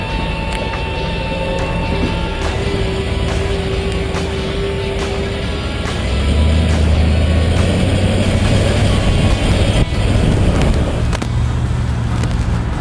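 A muscle car drives and turns into a corner with a steady, loud engine drone and road rumble. The low engine tone deepens partway through.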